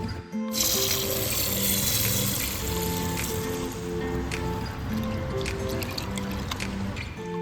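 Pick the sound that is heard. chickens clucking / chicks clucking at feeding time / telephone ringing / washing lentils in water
washing lentils in water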